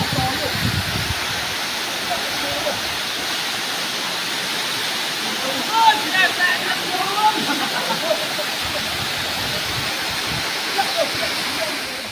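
A natural waterfall roars steadily and loudly, a constant broadband wash of falling water that never lets up, with faint splashy detail and no clear voice over it.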